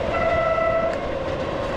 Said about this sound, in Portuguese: Olha o trem lá.